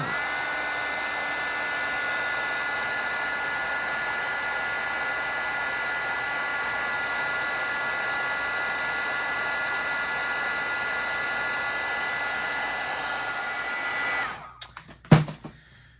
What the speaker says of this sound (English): let's heat emboss. This is gonna turn a beautiful shiny gold.